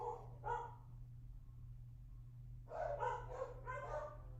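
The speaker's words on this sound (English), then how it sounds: "Dogs are barking like crazy right now." Dogs bark in two bursts, a couple of yaps followed by a quick string of barks, sounding somewhat distant over a steady low hum.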